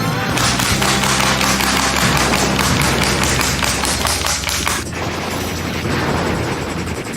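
Rapid bursts of gunfire from the Operation Wolf arcade shooter, played on an iiRcade cabinet, form a loud continuous barrage of cracks and thumps layered over game music for the whole stretch.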